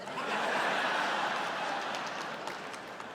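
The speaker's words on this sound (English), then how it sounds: "you want to take back that applause now" A stand-up comedy audience breaks into steady applause mixed with chuckles and laughter, a dense crowd wash that holds at a fairly even level for a few seconds before easing slightly.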